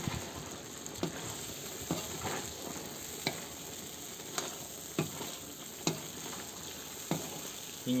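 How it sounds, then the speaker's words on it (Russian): Peppers and vegetables fry in a 12-litre kazan over a campfire for eggplant caviar, a constant crackling sizzle broken by a regular stir or tap about once a second. "Перемешиваем."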